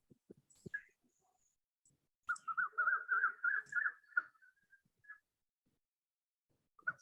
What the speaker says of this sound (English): Do I hear birds? I think it's Maureen. She's sitting outside.